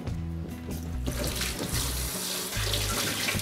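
Tap water runs steadily into a sink while a refrigerator basket is washed, a close continuous splashing rush with shifting tone as the basket moves under the stream.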